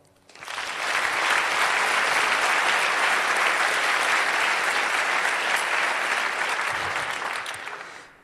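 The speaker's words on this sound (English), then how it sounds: "So give him a round of applause." A conference audience at a closing ceremony breaks into sustained applause, a dense wash of many hands clapping that swells quickly, holds steady for several seconds and fades at the end.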